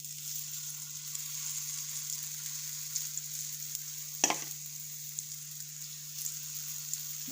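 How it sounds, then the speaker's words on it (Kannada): Veg omelette batter sizzles steadily in hot oil in a pan, a continuous close crackle and hiss with a steady hum beneath and one brief clatter midway. "ಇವಾಗ ನೋಡಿ, ಮಿಕ್ಸ್ ಮಾಡ್ಕೊಂಡಿರೋಂಥ ಹಿಟ್ಟನ್ನು ಹಾಕ್ತಾಯಿದ್ದೀನಿ."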